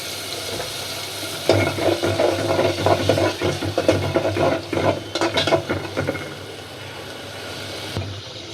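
Prawns frying in hot oil for a Bengali amra sour curry, a loud close sizzle that swells as they are stirred, with rhythmic scraping bursts midway before fading near the end.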